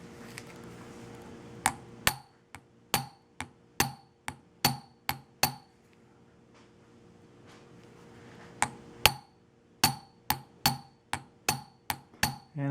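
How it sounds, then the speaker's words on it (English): A round nose punch is struck to spread a pocket watch balance rivet, giving crisp, light metallic taps in small bursts of several blows separated by quiet pauses, close and clear with nothing else heard. "to actually form and spread the rivet, we use the round nose punch"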